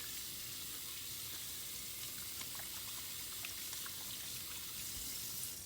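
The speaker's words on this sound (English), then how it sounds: "Can turn the water back on, and then rinse completely." Tap water runs steadily into a sink while hands are rinsed, a continuous soft hiss and splash, fairly quiet and even throughout with no voices.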